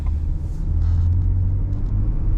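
A Ford F-150 pickup truck with the 2.7-litre V6 engine accelerates with a deep, steady engine rumble heard from close range, without speech.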